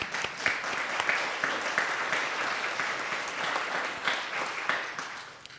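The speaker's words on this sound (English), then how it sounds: "Yeah, you can clap, it's fine." A church congregation claps during a Sunday morning service, a steady wash of applause with crisp individual claps lasting throughout at moderate loudness.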